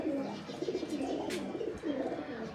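Domestic pigeons coo softly in a low, rolling murmur, several birds overlapping at close range in a quiet loft.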